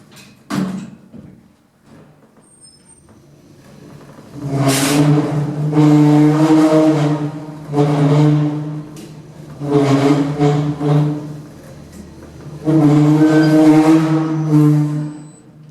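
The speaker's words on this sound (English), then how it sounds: "let's take a ride in this lift on car preference and let's listen to how worn out this lift is. It sounds pretty bad." A worn-out lift running through a ride in a car park, a loud droning, strongly tonal hum that starts and stops in several long surges with quieter thumps and clatter between them.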